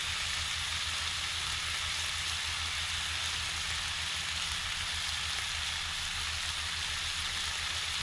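Pancake batter sizzles steadily in a pan over a hot campfire outdoors, a continuous close frying hiss with a low rumble of flame beneath, no voices.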